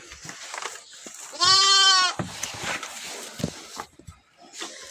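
A black female lamb, born that day, gives a single clear, loud bleat up close over faint background noise.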